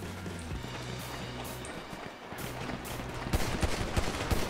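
Pistol shots in a GTA 5 Online pistol-only deathmatch on the Nuketown map, quick sharp cracks that grow louder and denser toward the end over a steady low game hum.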